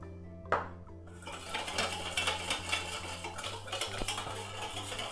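A spoon clinks and scrapes in a bowl as tagine meat and vegetables are mixed with sweet soy sauce. The sounds are close and fairly quiet, with a sharp knock near the start over a low steady hum.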